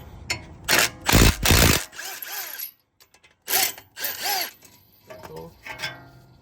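A power tool loosening a brake bolt on a 2016 BMW X5 buzzes in several short bursts with ratcheting clicks between them, close by, separated by brief quiet gaps.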